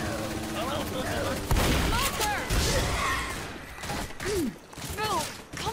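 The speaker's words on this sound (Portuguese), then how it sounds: "Para de atirar nos outros" Gunfire in the video game Left 4 Dead: dense, continuous shooting with sharp cracks and bursts throughout, mixed with excited voices talking over the action.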